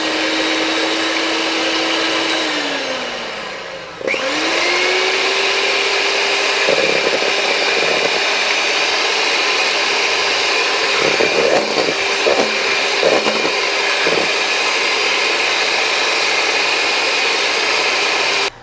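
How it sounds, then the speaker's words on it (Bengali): An electric beater whisks butter and eggs in a steady loud motor whine. The pitch sags and briefly drops out early on, then resumes, with scattered clatter from the bowl. "আমি এবার বাটার দিয়ে আর ডিমটা দিয়ে একটু ভালো করে আবার আর একটু ফেটিয়ে নিই"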